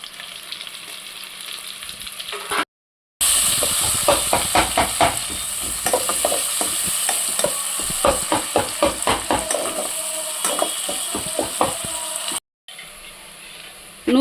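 Onions and chopped green chilies frying in hot oil for bendakaya (okra) curry, a steady close sizzle with bursts of crackle as ingredients are stirred, briefly cut by short silent gaps.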